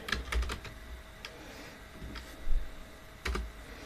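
Keystrokes on a computer keyboard as the app name Frame Spark is typed, a few scattered soft clicks with pauses between, fairly close and quiet.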